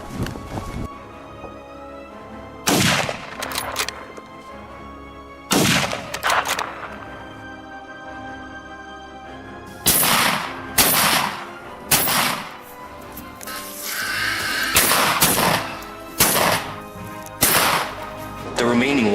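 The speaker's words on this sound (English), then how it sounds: "After a crisp gunshot, 3 more wild boars were taken down." Rifle shots ring out while hunting wild boars on snowy hills, a series of sharp, loud cracks spaced a few seconds apart, some in quick pairs, over a background rustle.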